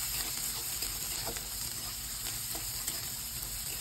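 Chopped onion and green chili sauté in hot oil with cumin already crackling, giving a steady, close sizzle with faint stirring scrapes and no voices.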